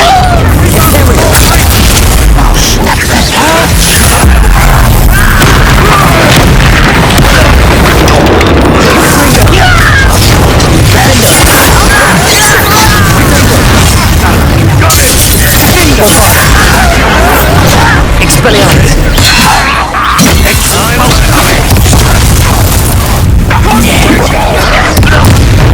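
Explosions from the Bombarda spell in the Hogwarts Legacy video game boom loudly amid a constant, dense din of crashing battle noise and bursts that never lets up.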